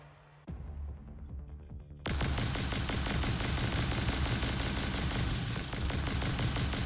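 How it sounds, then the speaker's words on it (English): Dense, continuous bursts of gunfire from combat drones in Nimbatus, with rapid bullet shots setting in after a quieter start and then sustaining a loud rattling barrage. "So we're getting shot before these bullets are destroying them"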